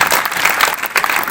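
An audience at a poetry event claps in a dense, loud, continuous burst of applause lasting about a second.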